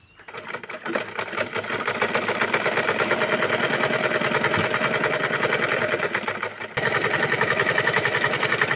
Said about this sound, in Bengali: গলাতে মেশিনের সেলাই দিয়ে দিচ্ছি, হাতে সেলাই দিব না